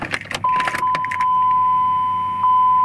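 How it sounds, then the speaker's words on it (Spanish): Car keys jangle briefly before a steady electronic chime tone sounds from a car being readied to start and move out, close and fairly loud with no talking. "tenemos que sacar los autos de acá"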